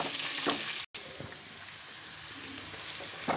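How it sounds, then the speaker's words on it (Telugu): Ridge gourd pieces fry in a pan with a steady, dense sizzle that holds throughout, broken only by a brief silent gap near the start; no one speaks. "ఇప్పుడు ఇది వేగాక ఇందులో బీరకాయ ముక్కలు వేయాలి"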